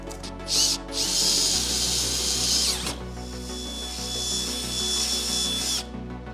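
A power drill with a 1/2 inch bit bores through metal, a loud, steady whine broken by a brief pause partway through before it winds on again, with no voices.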